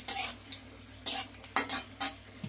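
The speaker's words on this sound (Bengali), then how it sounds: "এবার আমি কাজু বাদামটা ভেজে নিচ্ছি" Cashew nuts frying lightly in a pan, with a spatula scraping and clinking against the metal in several separate bursts over a faint, steady sizzle. No one speaks.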